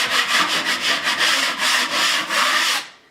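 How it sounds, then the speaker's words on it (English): Sanding of dried drywall mud on a wall, done to knock down high spots before a second coat: loud, close, rhythmic strokes of rough abrasive rasping, about a dozen back-and-forth passes in a steady tempo, with no talk. "I would just come along and sand off any parts that are sticking out"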